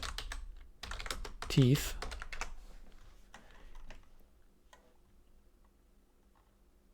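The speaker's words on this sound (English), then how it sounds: "if I use Google, regular Google, and I type in artificial" Quick taps on a computer keyboard while typing a search into Google, a close clatter of keys that fades to sparse clicks, with a voice speaking briefly over the start.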